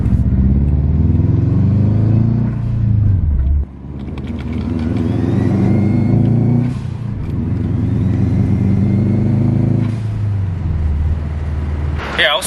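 Subaru WRX Hawkeye with a flashing check engine light, running on three cylinders, driven with a loud, rough engine drone that rises and dips through gear changes, close and continuous.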